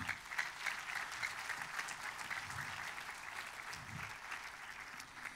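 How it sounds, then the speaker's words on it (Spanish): Church congregation applauding during a Spanish-language sermon, steady, fairly faint clapping heard at a distance and holding evenly for several seconds with no speech over it. "Dele un aplauso al Señor."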